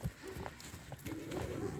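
A mare on a farm trots loose on her own, giving a few quiet, irregular hoof thuds at some distance, mixed with low background rumble and faint voices.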